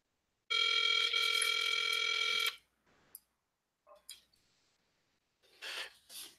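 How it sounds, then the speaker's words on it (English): A telephone line rings out as a single long, steady electronic tone lasting about two seconds, followed by a few faint clicks and rustles. "That line is just ringing and ringing."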